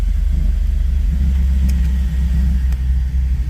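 A LSX V8 in an OBS truck idling after a Fitech EFI rewire and tune: a loud, deep, throbbing rumble close by, steady and lumpy throughout with no talking.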